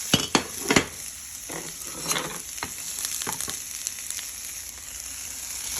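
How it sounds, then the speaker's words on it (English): Onions sizzle in hot oil with a steady crackling hiss, broken early on by a few sharp clinks and scrapes of a utensil against the pan. "let's get that oil hot and let's sizzle some onions"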